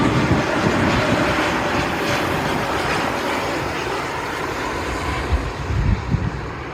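Airliners taxiing at Cleveland Hopkins International Airport give a loud, steady jet engine roar throughout, with low rumbling swells near the end.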